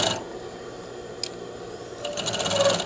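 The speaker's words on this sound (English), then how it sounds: "you can be cleaning your sewing machine with your garment while you're sewing" A sewing machine stitches the joined waist and skirt of a garment, a fast rattling needle burst at the start and a longer one at the end, with a faint mechanical click in between and quiet hum under it.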